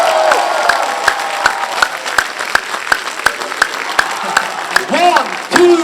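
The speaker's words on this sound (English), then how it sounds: "So please give him the best round of applause you can." Applause from an audience greeting Bollywood actor Tiger Shroff at a Baaghi 3 event, with sharp, evenly spaced claps ringing through a hall while a voice speaks over them, then louder crowd noise at the end.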